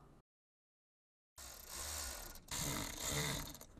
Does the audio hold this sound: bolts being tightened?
yes